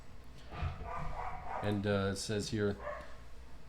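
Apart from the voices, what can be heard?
dogs barking at passersby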